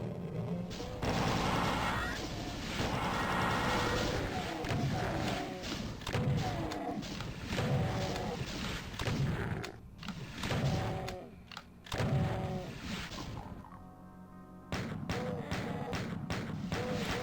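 A BFG fires in a fast first-person shooter video game, with heavy booming blasts and thuds layered over dense, busy game effects and music that keep going throughout, then drop out briefly near the end.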